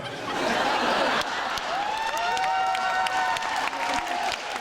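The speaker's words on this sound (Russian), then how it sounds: "А, ваши аплодисменты" An audience at a student intellectual contest breaks into sustained applause mixed with cheers and whistle-like voices, loud and crowd-wide, easing slightly in intensity but continuing throughout.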